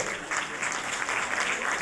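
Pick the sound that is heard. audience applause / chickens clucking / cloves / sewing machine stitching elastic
audience applause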